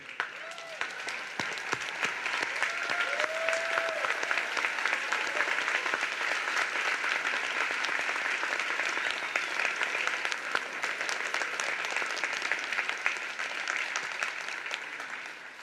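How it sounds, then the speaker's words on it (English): Standing graduates clap at a commencement ceremony, a long, even roar of applause from a large gathering, somewhat distant and steady, with faint voices rising briefly near the start. "So graduates, please stand and clap for everyone who helped you reach this special day"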